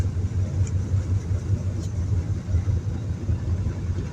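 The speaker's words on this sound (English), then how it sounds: "Can you hear the engine resisting all that downhill forces?" A car engine drones steadily with a low, throbbing rumble, heard from inside the vehicle while engine braking downhill.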